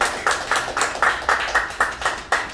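An audience applauds in a series of sharp, evenly spaced claps, about ten bursts in quick succession, fairly close and clear with no voices over them.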